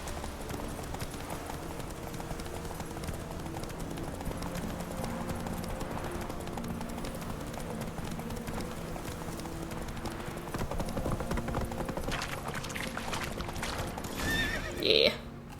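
Roach, a horse in The Witcher 3: Wild Hunt, gallops with a steady drumming clip-clop of hooves. A sharp whinny breaks out near the end over constant game ambience, and a voice talks over it.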